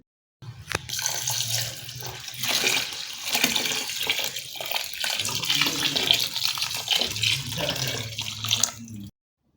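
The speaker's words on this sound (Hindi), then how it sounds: "तो हम इसमें 3 किलो दूध डाल रहे हैं।" Three kilos of milk pouring into a pan of dry sautéed carrots for gajar halwa, a steady continuous splashing gush of liquid lasting several seconds before cutting off abruptly.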